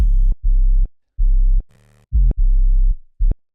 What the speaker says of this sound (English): we want to find ourselves something with some low end, like a sub